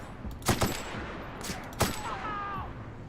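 Gunfire from a firefight in The Outer Worlds video game: two sharp, loud shot bursts, the second about a second later, with a faint ringing tone trailing after.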